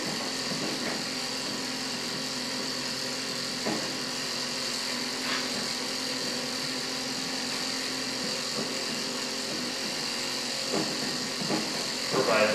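A pump draws fuel out of the tank of a Ford Super Duty pickup under repair, giving a steady, buzzing electric whine with a constant hum and a few faint clicks throughout.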